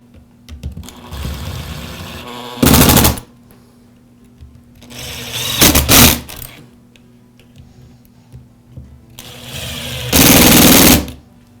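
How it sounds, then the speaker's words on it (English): Cordless power driver running screws into the transmission of a Milwaukee cordless drill, three loud, short whirring bursts close up, separated by quieter handling and clicking sounds. "Now reinstall the 4 transmission screws."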